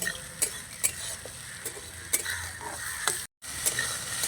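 Tomatoes frying in a pan for egg fried rice made with leftover rice: a soft steady sizzle broken by crisp spatula taps and scrapes against the pan, with a brief dropout near the end.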